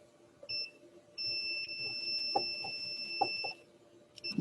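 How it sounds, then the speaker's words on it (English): A multimeter set to continuity mode gives a steady electronic tone in two stretches, a short one and then a longer sustained one, while the probes touch across a circuit, with faint clicks and handling noise around it. "It does beep. We have continuity."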